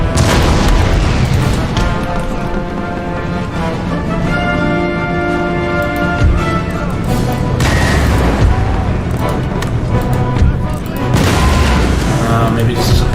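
Repeated cannon booms and gunfire in a battle of the strategy game Empire: Total War, a dense, loud barrage of overlapping blasts with a game music bed running underneath throughout.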